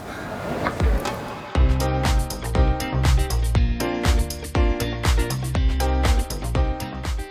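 Loud, dramatic effects play through speakers at a fortress model: rapid pounding impacts and clashing hits in a driving rhythm, like a staged enemy assault, with no one speaking.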